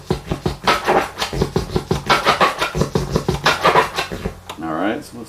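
A turntable delete scratch cuts up kick and snare samples in quick, choppy bursts of rubs and drum hits. It stays loud and up front before the pattern breaks off and a brief voice comes in at the end.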